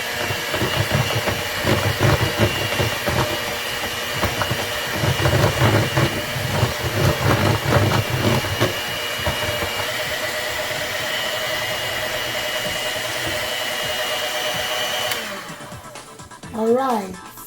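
An electric mixer whirs loudly and steadily through flax seed almond bread batter, its motor droning for most of the stretch before cutting off near the end.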